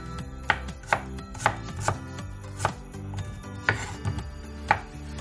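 A knife chops onions on a board in a series of crisp, fairly regular thuds, roughly two per second, close and clear with no voices.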